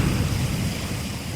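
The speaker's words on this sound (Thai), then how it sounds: "ได้ยินไหมครับ น้ำตกจรวดครับผม" Rocket Waterfall in Thailand: water rushing and splashing in a continuous close, broadband roar with no voices.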